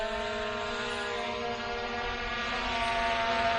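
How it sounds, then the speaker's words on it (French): An MJX Bugs 20 EIS drone hovering and descending to land, a steady high-pitched multi-tone propeller whine that stays loud and constant throughout, with no talk. "Voilà notre drone."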